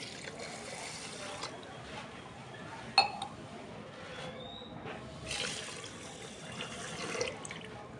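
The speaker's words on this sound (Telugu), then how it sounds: "3 గ్లాసుల వాటర్ వేస్తున్నామండి" Water is poured onto washed basmati rice in a cooking pot for chicken dum biryani, a faint trickling splash with a light clink near the middle and soft kitchen background.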